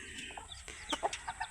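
Native backyard chickens cluck softly nearby in a series of short, scattered chirpy calls, quiet and close with light background noise.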